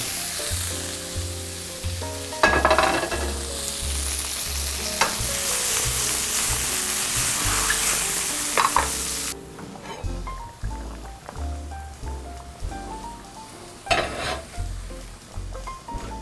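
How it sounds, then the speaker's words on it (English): Sautéed mushrooms and onions sizzle loudly in a pan as they are tipped together, a dense hiss with spoon scrapes and clunks, then a quieter, fainter frying with occasional stirring knocks. "my mushrooms and onions are looking good. I'm just going to consolidate them into one pan"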